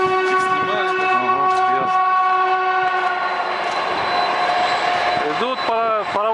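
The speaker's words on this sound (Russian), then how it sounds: "Все проходящие поезда сигналят." Trains roll past on the rail line, sounding long tonal horn blasts several times over the rumble of the wagons, with a voice speaking briefly near the end.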